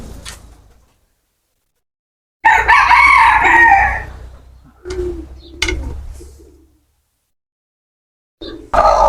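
A hen laying eggs gives a few loud squawking calls in separate bursts with quiet gaps between, close by and heard alone.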